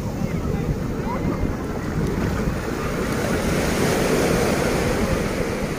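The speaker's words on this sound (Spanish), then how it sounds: "viene de una lancha." Motorboat pulling in at a crowded beach at Puerto Marqués, a rough low engine rumble mixed with surf wash and heavy wind buffeting on the microphone, continuous and fairly loud.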